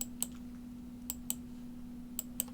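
Individual keys pressed on a computer keyboard while formatting a PowerPoint slide, about six sharp clicks in short pairs with gaps, close and fairly quiet over a steady low electrical hum.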